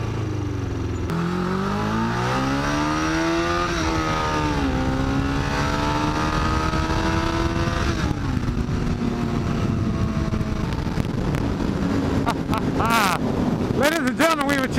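A Yamaha XJ600 motorcycle engine with freshly tuned carburettors revs repeatedly, its pitch climbing in long sweeps toward wide open throttle and dropping back, loud and close with wind buffeting the microphone.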